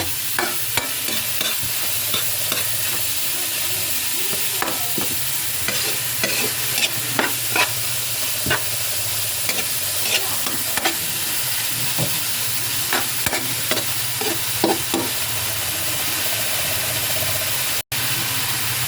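Ground pork giniling frying in a pan, a steady sizzle under repeated scraping and clattering stirring strokes, close and continuous with irregular rhythm.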